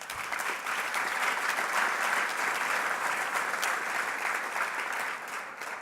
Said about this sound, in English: a round of applause for Jackie and what she's done.